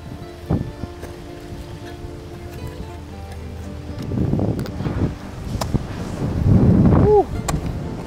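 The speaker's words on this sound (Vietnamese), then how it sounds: "Gió to quá." Strong wind gusts roar around a house, with a steady blustery rush that swells in the second half and rattles loose siding, while people talk faintly in the background.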